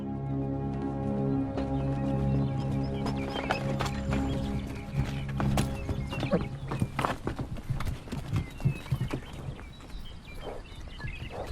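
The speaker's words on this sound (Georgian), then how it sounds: "მუსტანგები ახლა ამერიკის დასავლეთის დიდ ნაწილში ბინადრობენ" Mustang horses neighing and whinnying over a steady rumble, followed by a busy patter of hooves clattering on the ground, fairly close and loud.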